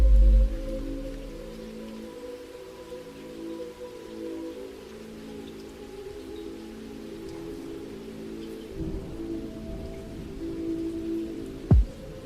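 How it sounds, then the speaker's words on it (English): Steady rain sounds within a song, a continuous wash of falling rain over low sustained tones, with a brief sharp knock near the end. "Rain sounds"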